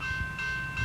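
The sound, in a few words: train approaching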